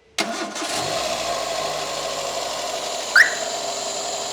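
A car engine, rebuilt without its PCV valve being checked, cranks and catches at once, then settles into a steady idle with a brief whistling squeal near the end; loud and close, with no voices.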